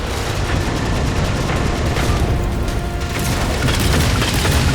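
Railgun fire in the video game Halo 4, a loud continuous booming roar with heavy low rumble that holds steady for several seconds and swells slightly at the end.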